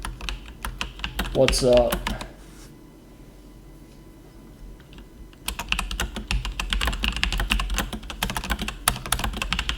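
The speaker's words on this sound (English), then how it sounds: "I'll type to you in chat" Rapid bursts of typing on a computer keyboard, close clicks in quick flurries, with a short spoken greeting at the start and a quiet pause in the middle before typing resumes.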